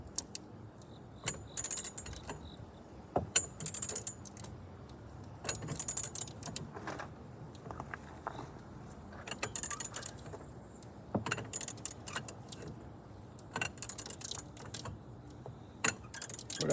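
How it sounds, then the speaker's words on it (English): Ratchet clicks and metallic clinks while loosening the upper control arm bolt and nut on a 2007 Jeep Liberty during a ball joint repair, coming in irregular close bursts over steady low background noise. "I'm loosening up the upper control arm bolt and nut."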